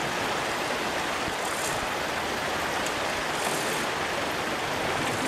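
The Aguarico River in the Ecuadorian Amazon rushes past as a broad, steady roar of flowing water, loud and constant with no breaks and no voices.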